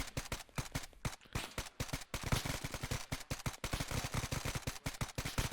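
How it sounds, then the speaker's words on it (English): Rapid automatic gunfire crackles in the Arma 3 military shooter, with dense bursts of shots fired in quick succession and no speech, all at a fairly low overall level. "Okay, just firing blindly."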